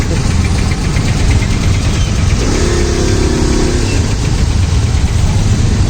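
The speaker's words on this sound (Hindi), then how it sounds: "हम लोग ट्रैफिक में फंसे हुए हैं यार" Dense road traffic with a constant roar of car engines close by, idling and revving, and a brief horn-like tone in the middle.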